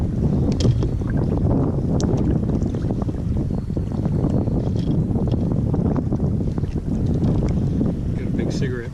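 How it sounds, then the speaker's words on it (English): A large cigarette boat motors nearby on open water, a steady broad rumble blended with wind buffeting the microphone and slapping waves, while people talk over it. "Got a big cigarette boat over here."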